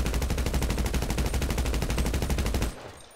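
Special carbine rifle fired in GTA, a loud, rapid, steady burst of automatic gunfire lasting under three seconds before cutting off abruptly.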